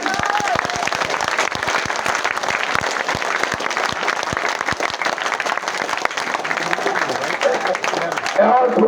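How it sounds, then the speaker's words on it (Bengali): A crowd at a roadside political rally in a market applauds loudly to welcome an arriving procession, with dense, sustained clapping throughout and a voice speaking over it. "আমরা সবাই হাততালি দিয়ে মিছিলকে বরণ করি"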